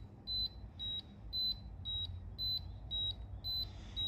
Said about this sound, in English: If it starts beeping, that means there's a break in the cable.